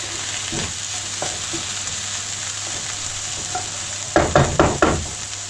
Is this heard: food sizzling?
yes